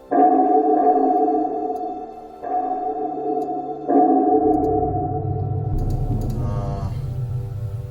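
Hollow, heavily reverberant drones swell in three long tonal pulses, then a deep rumbling low wash takes over, distant and washed out like ambient background.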